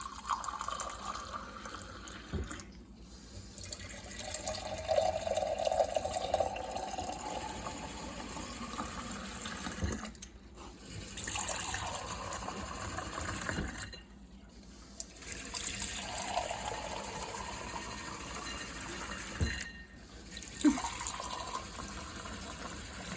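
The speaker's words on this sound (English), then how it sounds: "we are filling up 9 glasses of water in this video" Water pours into a row of nine glasses one after another. Each fill is a gurgling, rising stream lasting several seconds, with brief quiet gaps between glasses, recorded close and fairly soft.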